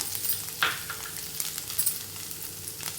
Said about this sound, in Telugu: ఇది కొంచెం వేగిన తర్వాత వెంటనే మనం అల్లం ముక్కలను వేసుకోవాలండి అల్లం అనేది బాగా వేగాలి